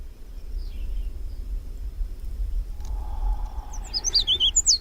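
Galapagos mockingbirds give a quick burst of sharp, high chirps near the end, following a quiet stretch of faint outdoor ambience with low wind rumble.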